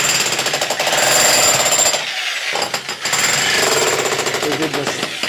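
Loud jackhammer pounding as cement floor is broken up inside a chateau, continuous rapid hammering with a brief pause midway.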